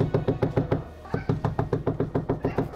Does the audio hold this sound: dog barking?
no